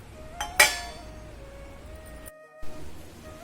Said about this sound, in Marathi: यावर आपण आता झाकण ठेवूया